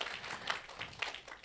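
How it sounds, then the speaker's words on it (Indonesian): Church congregation applauding God during a sermon, a short burst of broad, busy clapping from many hands, moderately distant and fairly soft. "Tepuk tangan yang paling meriah bagi Tuhan kita"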